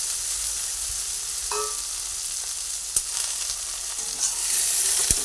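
Okra sizzles steadily in a hot pan after salt is added, with a soft hiss throughout and a few faint scrapes and knocks as it gets stirred.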